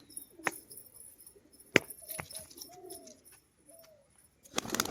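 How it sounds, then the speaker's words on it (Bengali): Domestic pigeons, including a male, make soft cooing calls close by in a quiet setting, with a few sharp clicks and wing flutters scattered among the calls. "আর এটা হচ্ছে নর পায়রা"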